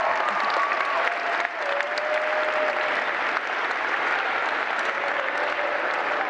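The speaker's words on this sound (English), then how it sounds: "let's give them another round of applause" A crowd at a children's program closing ceremony applauds steadily and loudly for several seconds, a thick wash of clapping with a faint tone running beneath it.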